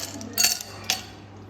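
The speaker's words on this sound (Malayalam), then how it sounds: "ഇതിൻ്റെത്തേക്ക് ഐസ് ക്യൂബ് ഇട്ട് കൊടുക്കേ" Ice cubes drop into a glass of freshly blended bush orange juice, giving two quick, light clinks about half a second apart against a quiet kitchen background.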